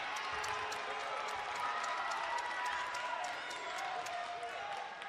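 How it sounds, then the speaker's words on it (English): Crowd noise fills a college basketball arena after a missed free throw in an NMSU men's game against Dixie State, a steady dense roar with cheering and scattered claps throughout, while a commentator talks over it. "And the crowd getting into it after the miss from the line."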